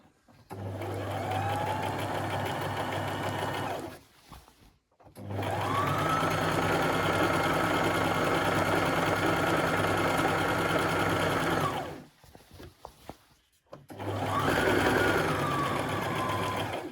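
A sewing machine runs long continuous seams on fabric for a tiered maxi skirt, loud and close, with three sustained bursts of steady whirring separated by short pauses.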